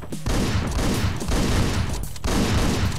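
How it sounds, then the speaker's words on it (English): Gunfire shootout in Hotline Miami, a dense rapid burst of shots filling three seconds, loud and close, with a brief gap before firing resumes. "me and that guy had a shootout and he won"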